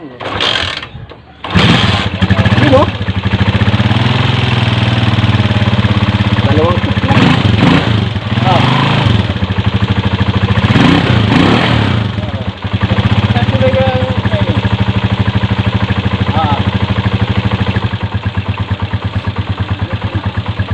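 A Rusi 125 motorcycle engine with a new battery catches and settles into a loud, steady, close idle, with a voice talking over the running engine.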